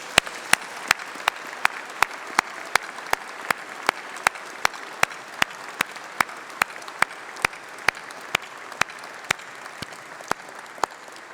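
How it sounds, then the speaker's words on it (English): A graduation ceremony crowd at UCLan applauds in a sustained wash of clapping, while one nearby pair of hands claps sharply and evenly at a brisk, regular beat above the rest for the whole stretch. "let's have a massive round of applause for all those special people, your family, your friends, and your tutors"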